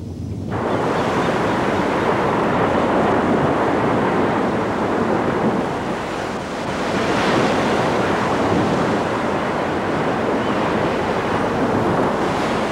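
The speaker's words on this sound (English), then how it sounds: "Gigantic waves rip and tear the kelp." Gigantic ocean waves crash and roar continuously, tearing through kelp along the coast; a loud, dense wash of surf with wind noise, swelling again after a brief dip midway, with no voices.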